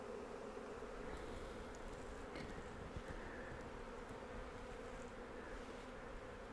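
Honeybees in a Flow Hive hum steadily and close up during a brood inspection, a dense continuous buzz that stays even throughout with no talking.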